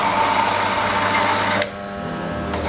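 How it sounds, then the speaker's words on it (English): An electric motor on a Falex friction brake test machine runs with a steady high whine and then bogs down abruptly partway through, dropping into a lower, labored hum as the load stalls it. "You'll see the amps come up and you'll also hear the motor"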